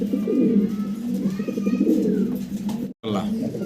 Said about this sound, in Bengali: ঘুরে ঘুরে ডাক শুরু করে দিছে ভাই